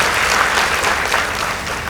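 Dense audience applause at a high school debate competition, steady and loud for the whole stretch as the judges' scores are announced, with no voices standing out.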